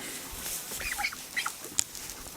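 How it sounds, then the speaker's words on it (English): Faint, scattered calls from older Muscovy ducks in a farm coop area, a few short soft chirps and squawks over a quiet background with no talking. "There's one of the older Muscovies."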